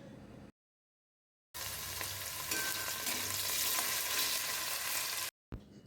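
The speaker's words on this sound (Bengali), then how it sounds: "সর্ষের তেলটা একটু গরম হয়ে গেলেই ওতে আমি কেটে রাখা আলুগুলো দিয়ে দিলাম" Cut potatoes fry in hot mustard oil in a pan, giving a dense, close sizzle that starts after a brief pause and runs steadily, with no talking.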